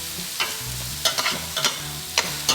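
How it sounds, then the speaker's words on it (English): A spoon stirs chicken souvlaki sauce in a hot pan, scraping and clinking in several short strokes over a soft, continuous sizzle, heard close with no talking. "we are going to stir up one more time"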